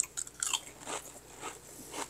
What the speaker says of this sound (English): Crunchy potato chip.